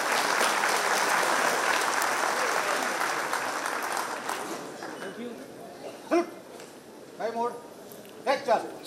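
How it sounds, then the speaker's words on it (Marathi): Loud applause from the gathering at a Mumbai Police retirement ceremony, dense clapping that fades out after a few seconds, followed by someone speaking and dogs yipping nearby. "सर्वांनी जोरदार टाळ्या वाजवल्या पाहिजे."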